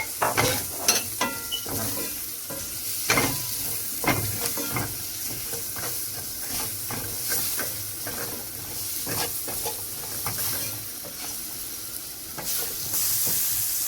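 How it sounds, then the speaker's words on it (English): Steady sizzling of onions frying in a pan, with scattered stirring clatters and pops over a continuous hiss, close and moderately loud. "My onions, fry it a bit"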